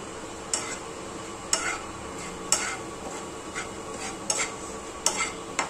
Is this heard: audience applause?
no